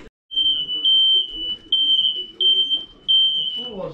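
A smoke alarm shrills in a cabin filled with smoke from a wood stove, sounding a steady run of high piercing beeps in repeated bursts, loud and near, with low murmur and movement beneath.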